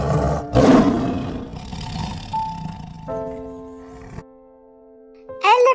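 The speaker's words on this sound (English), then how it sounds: "Tiger." A tiger gives a loud, close roar that swells and then trails into a rumbling growl, followed by a quieter tonal chime and a short final burst.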